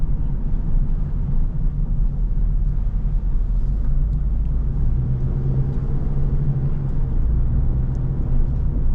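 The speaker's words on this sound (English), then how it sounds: "Nice chill night drive on the back roads." A 2007 Mitsubishi Eclipse SE cruises back roads at night, its steady low engine and road rumble droning evenly and up close throughout, with no voices.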